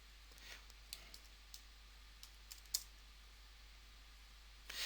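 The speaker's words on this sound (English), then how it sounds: "So I'm going to type out a word." Quiet clicks of typing a word on a computer keyboard in a document, a few scattered keystrokes spaced irregularly, faint and close, with a burst of taps at the end and no talking.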